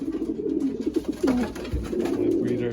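Stock pigeons in a breeding loft, including pure Janssen-type racers, coo in soft repeated rolling phrases, close and moderately loud, with low rustling in the background.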